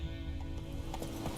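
Roach, the horse in The Witcher 3, gallops with a steady, close clip-clop of hooves over a low rumbling game soundtrack.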